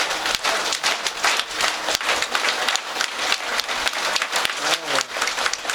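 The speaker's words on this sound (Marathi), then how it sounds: "फक्त टाळी वाजणार, टाळ नाही, पखवाज नाही, काहीच नाही, फक्त टाळी." A devotional gathering of kirtan listeners claps hands together in steady rhythmic time, with no cymbals or drums, dense and continuous at close range throughout.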